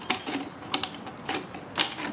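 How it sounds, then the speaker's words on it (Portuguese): Scissors snipping through a PET plastic bottle, several sharp crisp cuts in an uneven rhythm, close and fairly loud, with no talking. "Que com a tesoura a gente vai modelando."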